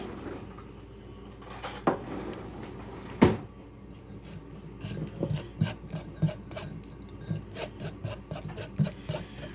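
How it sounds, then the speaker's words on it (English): A spoon scrapes and presses raspberry sauce through a metal strainer, giving repeated rough rasping strokes with occasional clinks of metal against metal, close and fairly quiet, with no talking. "we're going to strain this through a strainer"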